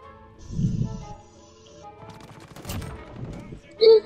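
Gunfire in the Warzone video game, a few short sharp shots scattered across a quiet moment among other game sounds, fairly faint overall.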